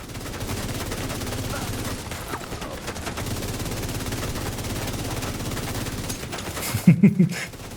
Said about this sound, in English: they start firing